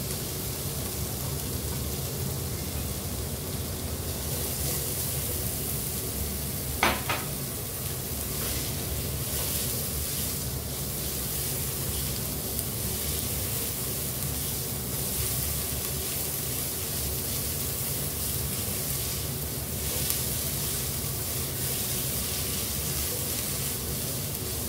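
Onion and garlic frying in a pan: a steady, dense sizzle with a constant hiss continues unbroken, and a single sharp click sounds partway through.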